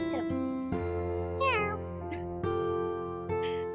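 A person imitating a cat, producing several drawn-out meows with sliding pitch, close and clear, spaced out one after another over a low steady background hum.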